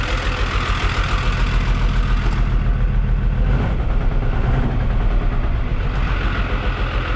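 A 1975 squarebody truck's diesel engine idles low and steady, a loud continuous rumbling throb that holds even throughout with no one speaking.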